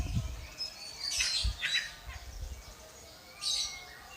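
Bright, high chirps and short warbling trills from a canary in a few separate bursts, with low thumps underneath.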